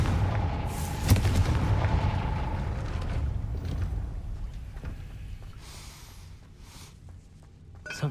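A Confringo fire spell blasts a gate in the Hogwarts Legacy video game: a loud booming explosion with a sharp crack, then a rumbling decay over several seconds that fades under quieter game ambience.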